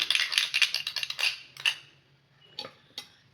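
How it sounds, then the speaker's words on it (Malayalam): A spoon mixes a coffee and curd face scrub in a small bowl, starting with a quick run of light metallic clinks that thin out into a few separate taps, all close and quiet. "അപ്പം അതിലേക്ക് ഞാൻ ഒരു സ്പൂണ് തൈര് ആഡ് ചെയ്യുകയാണ്. നന്നായിട്ടൊന്ന് മിക്സ് ചെയ്യാം."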